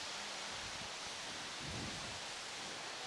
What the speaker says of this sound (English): look at the rain coming down now.